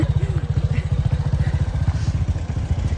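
A motorcycle climbs a steep hill on the way to Hulangala Mini World's End in Sri Lanka. Its engine throbs loud and close in a steady, rapid low pulse for the whole stretch.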